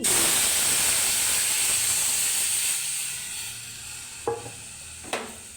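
Semolina (suji) fries lightly in white oil with a loud, close, steady hiss that gradually fades, followed by two sharp knocks of a utensil against the pan.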